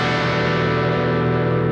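Overdriven electric guitar through a Boss Katana 50 amp, a sustained distorted chord ringing steadily and loud for the whole moment, thick and gritty with no talking.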